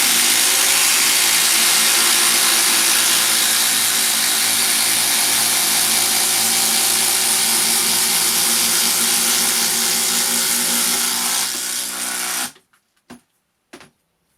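Makita impact drivers drive 150mm batten screws as one loud, continuous, rattling whine runs nonstop for about twelve seconds, then cuts off and is followed by a few short bursts and clicks.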